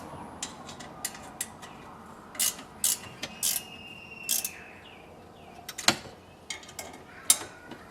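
A ratchet wrench with a 13mm socket snugs down nuts during a Pontiac Fiero conversion, giving scattered sharp clicks and short ratcheting bursts, close but fairly quiet, over a low room background.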